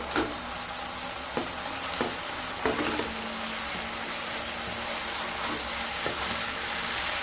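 Fried rohu (rui) fish pieces dropped into a well-cooked oily spice masala for tomato rui curry, a loud continuous close sizzle with occasional sharp crackles and knocks.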